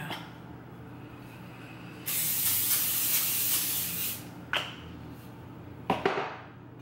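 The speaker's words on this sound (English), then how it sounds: "I want to spray my pan." Cooking spray hissing onto a glass baking pan in a home kitchen, one steady two-second burst followed by two short spurts, close and clear with no talking.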